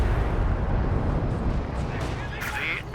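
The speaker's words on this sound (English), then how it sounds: "Railway artillery coming down as well." Railway artillery shells pound down in Company of Heroes 2, a dense rumbling barrage of blasts that fills the scene, loud and continuous, with a brighter burst near the end.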